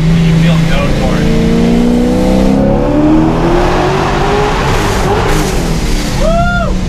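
A supercharged Ford Mustang GT350 accelerates hard on a dyno, the engine note climbing steadily and loud throughout, with a rising blower whine near the end and people talking over it.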